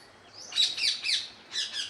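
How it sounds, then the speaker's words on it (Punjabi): Sparrows chirp in a quick series of high tweets, fairly faint, in a quiet setting. "ਚਿੜੀਆਂ ਦੀ ਇਹ ਚੀਕ ਚਕਾਹ ਚਾਹਟ ਬਹੁਤ ਹੀ ਅੱਛੀ ਲੱਗਦੀ ਹੈ"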